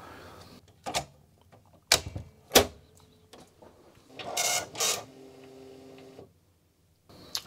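Commodore MPS 1500C color dot matrix printer printing, with irregular sharp clacks and bursts of rasping print-head buzz, brief whirring carriage moves and pauses between, close and fairly loud.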